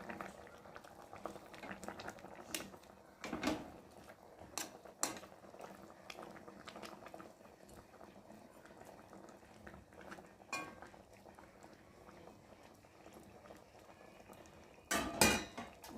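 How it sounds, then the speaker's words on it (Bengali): Fish curry boils quietly in a pot with fried fish, a soft continuous bubbling heard up close, broken by occasional clinks and scrapes of a spatula stirring against the metal. "ঝোলটা ফুটে গেছে, আর এখন আমি ভেজে রাখা মাছগুলোকে দিয়ে ভালো করে ফুটিয়ে নেব"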